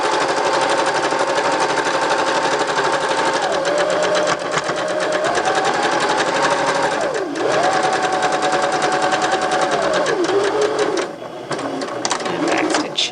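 A sewing machine runs a straight seam along a fabric hem on the 5/8 inch line, a loud, rapid mechanical whir that rises and dips in speed, pauses briefly, then restarts near the end.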